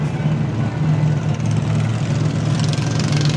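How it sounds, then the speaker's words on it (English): Hot rod golf cart go-karts roll by in a Christmas parade, their engines giving a steady, close, low idling drone with a faint rising whine toward the end. "Out here in these hot rod golf cart go-karts."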